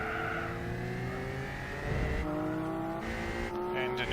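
Gran Turismo 4 race cars, including a Lotus Elise, roar together as their engine tones rise and shift through gears. The sound is loud and continuous, with overlapping motors.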